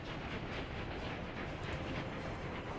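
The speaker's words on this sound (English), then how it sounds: "That train's back operational." A train runs in the Workers and Resources city-building game, a continuous rumbling roll with a faint clickety-clack rhythm, fairly quiet and steady, heard alone with no talk over it.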